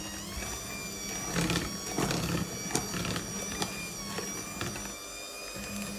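An electric hand mixer whisks a whole wheat flour dough, giving a steady, fairly loud motor whine with bursts of heavier churning and thumping as the beaters work through the dough.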